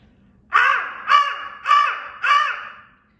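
A person imitates a crow with four loud, harsh caws in a steady, evenly spaced series, close and clear against a quiet background.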